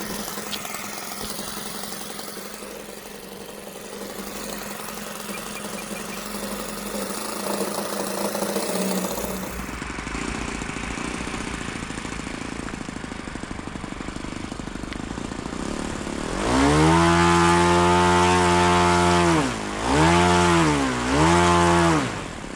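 A Saito 100 four-stroke model airplane engine with a single-blade prop runs near and steady, its low throbbing note swelling into a loud harmonic drone that dips and rises in pitch a couple of times.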